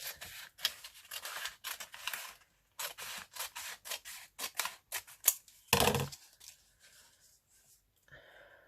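Scissors snip through paper in a crafting session for an altered book, a run of short crisp cuts in quick bursts, close and fairly quiet, with pauses between strokes and no talking.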